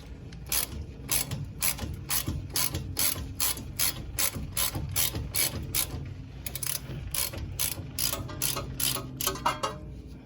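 A ratchet with a 21 mm socket loosens the ball joint nut on a Mercedes C230, clicking in quick repeated strokes of rapid pawl ticks, close and loud, with no talking.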